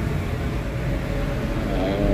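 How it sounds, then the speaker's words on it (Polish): Kitchen extractor fan filters hum steadily, a loud broadband roar with a low-pitched drone that stays constant and close throughout, with no voices. "Sorry za szum, ale to z filtrów tutaj"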